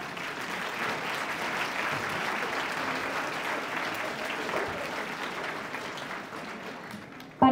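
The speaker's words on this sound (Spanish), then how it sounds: "con otro fuerte aplauso" Seated conference attendees at an interdisciplinary arts and humanities congress give a long round of applause, a steady wash of many hands clapping at even strength that tapers slightly before a sudden sharp noise at the end.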